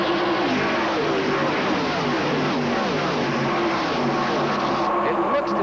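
A field of NASCAR Winston Cup stock cars roars at the race start of the 1986 Champion Spark Plug 400 in Michigan, a dense, loud, continuous engine blare with a commentator's voice beneath it.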